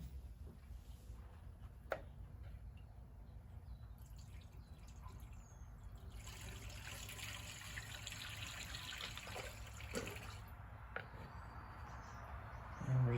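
Coolant running out of a cracked 1954 Kaiser Darrin engine block, a faint continuous trickle and dribble with a few small drips, heard close under a low background hum and growing a little fuller partway through.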